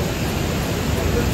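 Floodwater rushing loudly along a swollen village river, a dense, continuous roar close by with no breaks.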